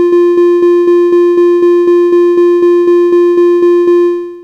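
A steady string of short, identical electronic beeps playing a triplet rhythm, bright tonal pitch, evenly spaced at a brisk pace, about sixteen in a row, then a fading tail.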